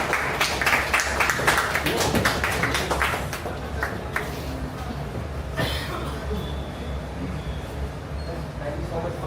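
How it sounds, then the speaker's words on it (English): Audience applause for a guest speaker in a small indoor gathering, a burst of dense clapping that thins out after a few seconds into scattered claps and room murmur. "Guys, a big round of applause to the man himself"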